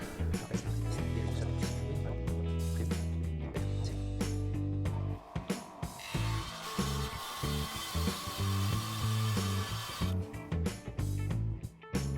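An electric radial saw, the Mejix CMER 230B, cuts ceramic tile, its motor droning loudly with a grinding, whining blade that rises partway through the cut and then falls back, with clatter before and after.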